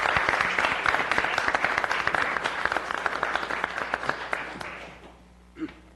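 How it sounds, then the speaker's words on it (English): Room applause for firefighters at a public safety committee meeting: steady dense clapping for about four seconds that tapers and dies away, with a brief voice at the end. "Can we give them a round of applause?"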